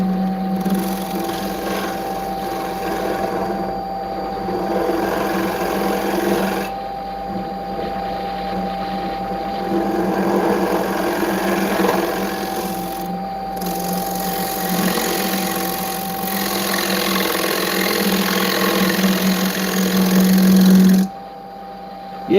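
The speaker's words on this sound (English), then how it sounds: "this is probably not the way you're supposed to use the reverse function on your lathe" Continuous whirring hum of a wood lathe spinning in reverse while turning a small bowl, steady and close, with brief changes in tone as the cut shifts, ending in a sudden drop near the end.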